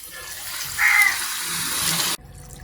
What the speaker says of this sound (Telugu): బాగా కలుపుకున్న తర్వాత వాటర్ యాడ్ చేసుకోండి.